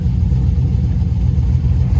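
A cammed Pontiac GTO with a 6.0L V8 and Borla exhaust idles close by as a loud, continuous low rumble with a lumpy, uneven pulse, and no voices over it.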